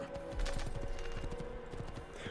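Rapid hoofbeats of a galloping horse in Assassin's Creed II thud in a quick, steady rhythm, fairly quiet and close, over a faint background tone.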